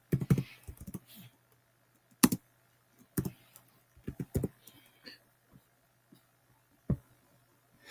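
Typing on a computer keyboard while coding a weather API request: scattered, irregular key clicks and a few louder taps, close and alone with no talk.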